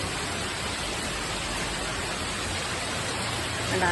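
Heavy rain pours down steadily as a dense, even hiss that fills the scene without pause, close and loud throughout.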